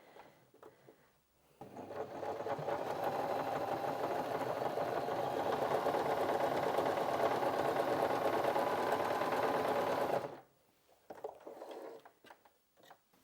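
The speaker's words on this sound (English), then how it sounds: "And the machine's done a really nice job of that." A Janome J3-24 sewing machine stitches through four layers of fabric in one continuous, even run of about nine seconds, close and steady, with quiet handling noises before and after.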